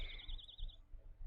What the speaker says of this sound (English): Ah, the sound design is nice. I can hear the birds.